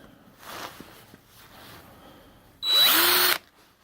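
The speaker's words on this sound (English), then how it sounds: "I received my brass lap this week, and I have it on my DeWalt drill." DeWalt cordless drill spinning a brass lap at low speed on a workbench: one short whirring burst near the end, rising then holding steady, after a few quiet handling taps.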